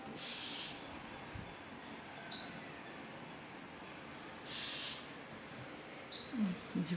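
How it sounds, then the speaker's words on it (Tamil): A sparrow calls near its nest of newly hatched chicks, giving a few short, bright chirps spaced a few seconds apart, fairly close, over quiet outdoor background hiss. "இந்த குருவி அதை பாருங்க கத்திக்கிட்டு நிற்கிது, தெரியுதா?"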